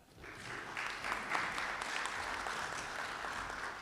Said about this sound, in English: we need to give a round of applause to that.